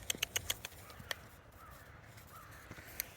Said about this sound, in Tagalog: Naririnig niyo yung uwak.